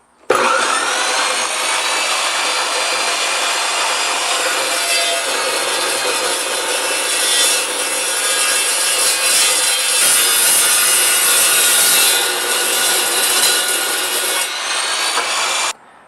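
An Evolution carbide-blade metal chop saw cutting through roughly 1.5-inch square steel tubing, a loud, continuous high-pitched grinding whine that holds steady for about fifteen seconds before stopping abruptly.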